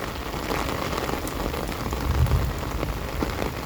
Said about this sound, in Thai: ฝนถล่มมา ไม่เหลือเลยท่านผู้ชมเอ้ย